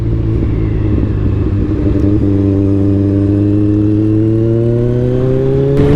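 A Kawasaki Ninja 1000 with an aftermarket exhaust runs loud and close, its pitch rising steadily as it revs, with a deep, throaty exhaust tone.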